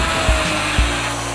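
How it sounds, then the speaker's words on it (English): A high-pitched rotary drill grinds steadily into a bone carving of a dolphin behind the dorsal fin, a continuous whine with two brief dull bumps as the bit bites. "I'm going to drill a hole here behind the dorsal fin"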